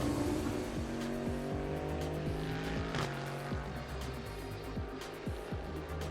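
An Audi R8 LMS GT3 race car of Absolute Racing, in blue livery, at Sepang International Circuit in Malaysia during a GT Asia race gives a loud, continuous engine roar, with repeated sharp gear-shift drops in pitch as it passes.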